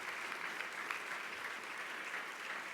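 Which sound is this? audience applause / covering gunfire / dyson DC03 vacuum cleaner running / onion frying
audience applause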